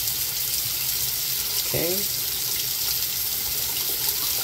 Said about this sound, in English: I'll let it run another 15 seconds here, and then I'll switch it back over to the hot.